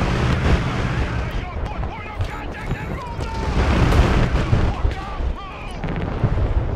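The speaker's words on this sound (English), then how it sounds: "our barrage is arriving" Artillery barrage in the Broken Arrow war game, heavy booms and blasts rolling one after another at mid distance under steady battle noise, with someone talking over it.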